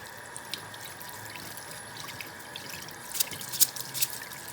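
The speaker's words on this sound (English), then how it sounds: "It's easy to put it under the faucet, the stream of water, and wash it right on a strainer." Running faucet water pours over rice in a strainer, a steady faint trickle with a few louder drips and splashes near the end, no voices.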